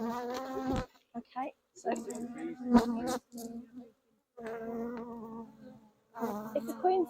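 Honeybees buzzing softly around an open hive during an inspection with a half brood box set on the roof, a faint hum mostly buried beneath people talking nearby.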